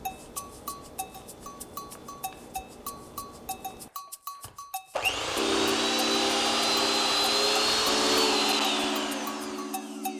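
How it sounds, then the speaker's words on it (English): A hand mixer beats mascarpone and coconut cream after a run of light rhythmic clicks, then settles into a loud, steady, close electric whirring that holds to the end. "Mix with hand mixer until well combined."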